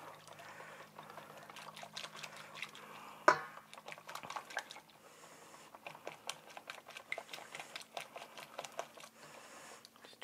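Waffle batter being mixed by hand in a bowl, soft irregular wet tapping and whisking strokes, quiet and close, with one sharper knock partway through.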